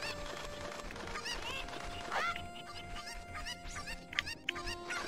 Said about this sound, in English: Thank you for finding my cuckoos.